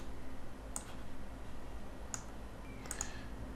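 Computer mouse clicks while importing purchase orders in QuickBooks Desktop software: a few sharp, faint single clicks spaced apart over a steady low background hum, with no voice.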